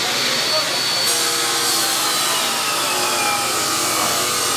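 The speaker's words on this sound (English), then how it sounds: "Drilling my handle. Desert ironwood in a coffin shape." A loud, steady power drill whines and grinds continuously through a desert ironwood knife handle, with a slight shift in pitch partway through.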